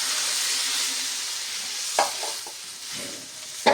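A fried spice paste of garlic, ginger and tomato sizzles steadily in a pan for a crab curry, with a few sharp bursts of splashing hiss as water is added, close and without talk.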